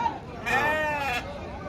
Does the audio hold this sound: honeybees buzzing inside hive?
no